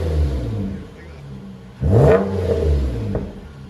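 2011 Nissan Altima SR 3.5L V6 with Magnaflow Magnapack dual exhaust idling, then blipped into one sharp rev that swells and drops back to a throaty idle, close and loud.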